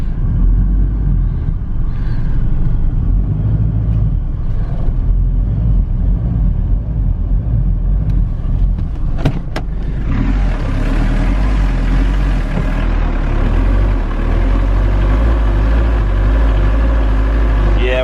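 A stuck Delica van's engine revs hard, a steady loud drone as the wheels spin in place, with a rougher burst partway through.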